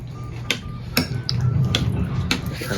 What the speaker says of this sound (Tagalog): Pwede ko na siyang haluin.